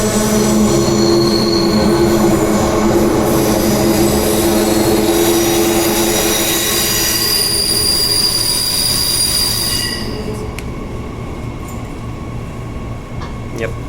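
A Perth train crosses over from one track to another on the way into an underground station, with loud steady rumble and sustained high wheel squeal that fades slightly near the end, heard from on board.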